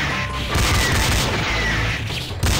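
Rockets blasting in the video game Commando 2, a dense run of booming, crashing explosions that rolls on continuously at close range with no pauses between hits.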